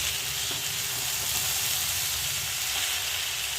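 Cabbage and Gobindobhog rice fry in a pan for a Bengali cabbage-rice ghonto, giving a steady, close sizzle and hiss that runs throughout with faint stirring scrapes.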